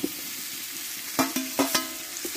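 Pumpkin and pointed gourd go into a hot pan of fried tomato spice paste, giving a soft, steady sizzle with a few sharper bursts of frying and stirring scrapes, close and alone.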